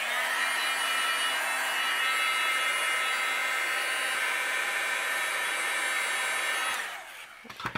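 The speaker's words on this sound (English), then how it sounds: "I'm going to use my heat gun, and I'm going to dry this a little bit more" A heat gun blows a steady, loud whoosh of hot air over a cardmaking background, holding constant for about seven seconds before cutting off abruptly, with no talking.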